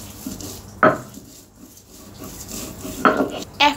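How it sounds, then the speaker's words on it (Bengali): Garlic cloves being crushed on a stone grinding slab, heard as a few separate rough scraping and grinding strokes with quiet gaps between them. "তো রসুনগুলো আমি পিষে নিচ্ছি।"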